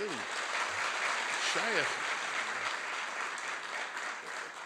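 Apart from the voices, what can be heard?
audience applause at a dinner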